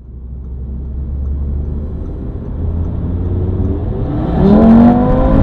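A 2017 Audi RS3 Sportback with the 2.5 TFSI engine hums along at a low, steady drone. Near the end a sharp throttle blip lifts the engine note quickly and loudly.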